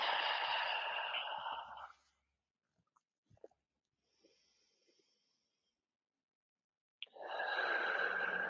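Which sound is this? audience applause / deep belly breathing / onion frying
deep belly breathing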